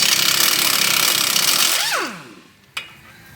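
Power tool removing 18mm bolts from the front strut of a 2009 Volvo V70, a loud continuous whir that winds down and falls in pitch, followed by a brief sharp click.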